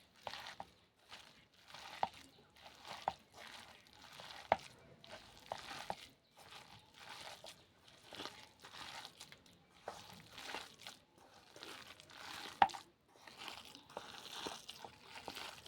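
Drumstick flowers are kneaded by hand into a gram flour batter, making soft repeated squelching, crinkling pats in an irregular rhythm, quiet and close, with no talking.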